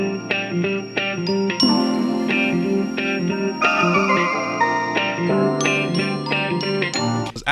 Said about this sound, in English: I added some bells to the guitar and the melody